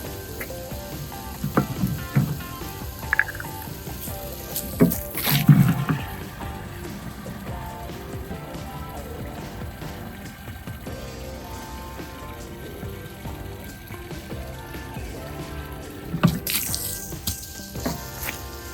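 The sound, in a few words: water running into bucket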